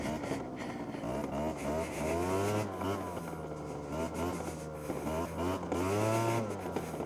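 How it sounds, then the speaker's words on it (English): A 23-year-old two-stroke scooter engine runs nearby on an outdoor trail, rising and falling in pitch through repeated throttle swells with a buzzy, rasping tone. "That 23 years old two-stroke is alive."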